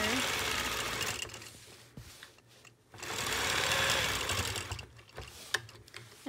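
A sewing machine free-motion quilting a continuous orange peel design whirs in sustained runs. Brief pauses and small clicks break the runs, with a quiet voice at times.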